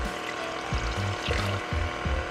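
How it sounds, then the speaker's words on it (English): Warm water, one and a quarter cups, pours into a mixing bowl with a running mixer, a loud steady splash under a rhythmic low mechanical thumping. "And we're gonna add the warm water."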